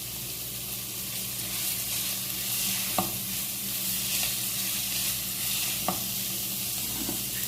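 Croquette filling sautéing in a pan gives a steady bright sizzle and hiss, with a few distinct scraping knocks of a spoon against the pan spaced several seconds apart.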